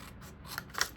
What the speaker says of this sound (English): So get your scissors and cut those out.